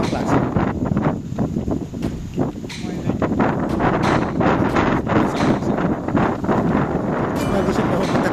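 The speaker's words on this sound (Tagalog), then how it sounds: "Ang lakas pa ng hangin." Strong wind buffets the microphone in loud, gusty roaring bursts outdoors in cold weather in Japan, with people talking faintly underneath.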